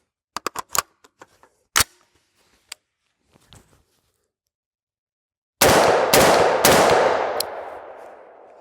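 Rifle-caliber pistol firing 5.56 55-grain rounds from a short barrel: scattered sharp clicks and clanks first, then three very loud, close blasts in quick succession with a long reverberant tail.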